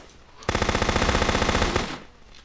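A loud burst of rapid automatic gunfire in the video game Guncraft, lasting about a second and a half with a sharp onset and a fading tail.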